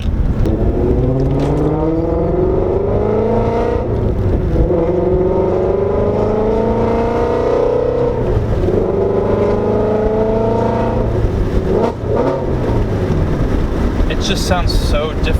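A 510whp Ford Mustang Shelby GT350 revs hard through repeated rising and falling sweeps while driving, loud and close with wind noise, and someone speaks over parts of it.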